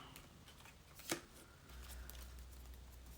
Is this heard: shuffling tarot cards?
yes